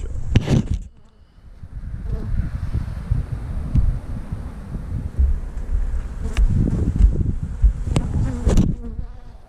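Honey bees buzz steadily around an open beehive during an inspection, a dense close hum with wind rumble against the microphone and a few sharp handling knocks.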